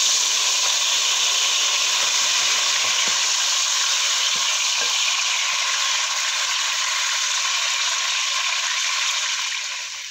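Tomatoes sauté in hot oil with garlic for a Filipino breakfast, a loud, steady, close hiss and sizzle running throughout, with a few faint stirring taps early on.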